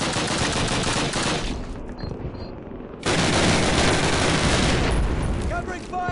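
Gunfire in the Call of Duty video game crackles in dense, continuous bursts of rapid automatic shots, briefly thinning before a louder volley resumes, with faint voice in the mix.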